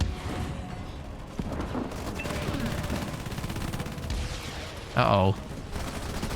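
Sniper fire and battle noise in the real-time strategy game Halo Wars 2, dense and continuous with a loud burst near the end, under excited commentary voices.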